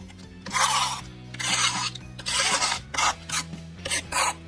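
Repeated scratchy rubbing strokes on paper, pressing down double-sided adhesive on a scrapbook layout, sweep back and forth in bursts, close and fairly loud, with brief pauses between each pass.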